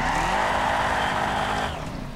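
A low, wide-tyred NASCAR-style circuit race car in the video game The Crew drones steadily at high revs, loud and close, easing off toward the end with no talking.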